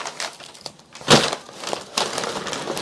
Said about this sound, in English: And then we're just going to tape it up.